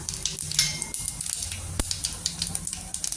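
Cumin seeds spit and crackle in a spoonful of hot oil for palak bhaji, a close, irregular patter of sharp pops over a steady sizzling hiss.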